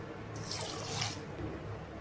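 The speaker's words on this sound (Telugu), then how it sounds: "చూసారా, వాటర్ కూడా వేసాను మంచిగా" Water poured into rice in a pot for egg dum biryani, a steady close rushing pour lasting about a second and fading into a soft trickle, with no talking.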